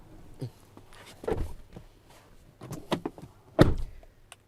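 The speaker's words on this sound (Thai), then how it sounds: "แล้วก็ขึ้นปิดประตูด้วยนี่" Door of a Toyota Veloz seven-seater closing: a few light clicks and soft knocks, then one solid, close thunk near the end, with no speech.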